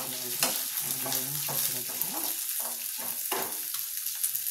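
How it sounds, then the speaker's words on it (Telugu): Onions frying in a pan at a roadside vendor's stall, a steady close sizzle with a few spoon scrapes, and tonal background sounds from the surroundings running underneath. "onion fry"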